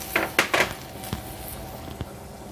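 Mixed peppers and baby corn drop into a pan for green curry, giving a few close clattering knocks and soft thuds in quick succession, then sparse lighter taps.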